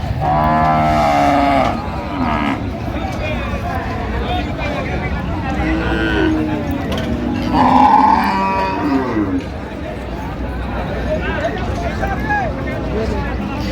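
Cows and calves moo repeatedly at Raniganj cattle market, some calls deep and drawn out, others higher, amid a noisy crowd of people talking in the background.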